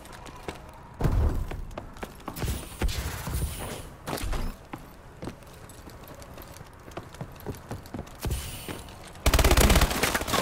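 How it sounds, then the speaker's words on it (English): Rapid bursts of MP11 submachine gun fire from Call of Duty: Advanced Warfare, loud and close, with repeated fast volleys and a long sustained burst near the end. "Oh, it's rapid fire."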